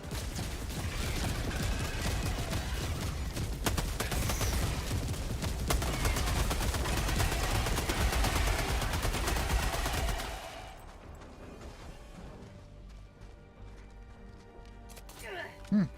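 An orbital barrage strike in the Helldivers game, a dense, continuous rumble of rapid impacts and blasts that cuts off sharply, leaving a quieter scene with one last thump, while a voice talks throughout.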